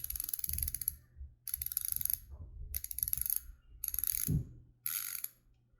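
A Koozer XM 490 rear HG mountain bike hub, 142x12 mm and 36-hole, spins in four separate bursts of rapid ratchet clicking, each about a second long, with short quiet gaps and a soft handling thump.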